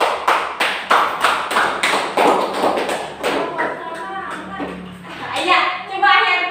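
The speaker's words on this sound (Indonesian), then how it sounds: "Tepuk tangan dulu buat kita semua." A group of sixth-grade children claps in a steady rhythm in a classroom, then the claps scatter and fade as young voices chatter over the end.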